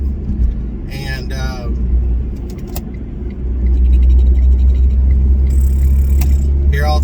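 A three-cylinder 70-horsepower Smart car engine drones steadily as the car drives along, a loud low rumble that swells and stays strong, with a voice speaking over it early on.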